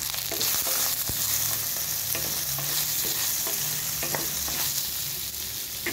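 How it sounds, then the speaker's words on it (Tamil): A spoon stirs poha upma with salt and ginger in a hot pan, a steady sizzle with continuous scraping and stirring, close and fairly loud with no talk. "உப்பு சேர்த்து நல்லா மிக்ஸ் பண்ணிக்கலாம்."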